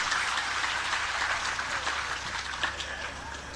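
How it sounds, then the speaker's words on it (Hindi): An audience at a spiritual discourse claps loudly to welcome a judge, a dense, hissing wash of hands that slowly fades. "एक बार इनके लिए जोरदार ताली बजाकर इनका अभिनंदन कीजिए।"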